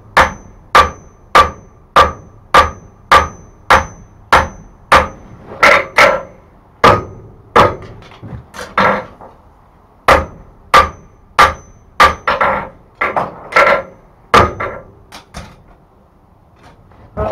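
Heavy hammer blows ring out on hot iron while forging a colonial-style wrapped-eye tomahawk, about one strike per second, close and loud, with a few quicker clusters of strikes toward the end.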